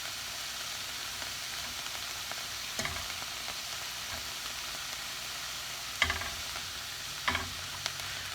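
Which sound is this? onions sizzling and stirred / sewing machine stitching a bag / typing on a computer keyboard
onions sizzling and stirred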